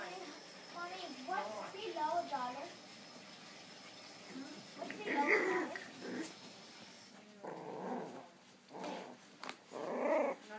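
An English bulldog growls and grumbles in rising, wavering bursts during rough play fighting, with whimpers and yips mixed in, close by; faint background noise between.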